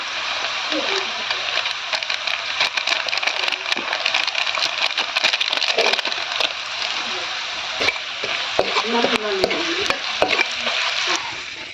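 Onion and chili frying in a pan, a loud steady sizzle with the clatter and scrape of a spatula stirring, interrupted by brief splattering.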